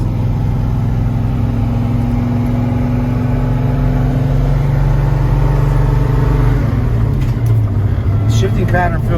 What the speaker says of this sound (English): test driving our 65 Mercury Comet, powered by a 289 Tripower engine,